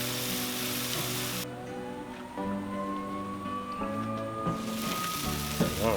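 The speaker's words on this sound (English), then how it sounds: "Wanted to get a good little sear on that skin." Chicken wings searing over direct heat on a Char-Griller charcoal grill, a constant crackling sizzle running throughout, layered with steady background music.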